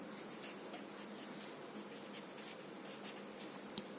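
Soft, continuous scratching of a pen or pencil writing on paper in a quiet room, faint and close, with a small tap near the end.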